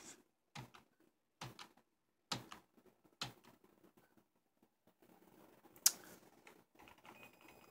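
A code being entered on a keyboard: a handful of separate, quiet key taps spaced about a second apart, with one sharper click near the end against a near-silent background.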